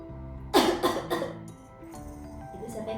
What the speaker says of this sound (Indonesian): Itu siapa yang batuk?